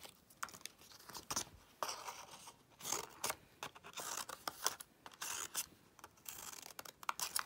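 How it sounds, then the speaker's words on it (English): Scissors cut shapes out of paper for window decorations, close and quiet, with a continuous run of snips, crinkles and paper rustle and no talk. "So I'm just going to cut a few shapes in the middle to give you an idea."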